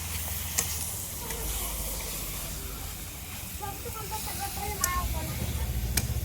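Chicken pieces sauté in a pan with spices for a village-style dry Marathi chicken, a constant hissing sizzle with faint clinks and soft background voices.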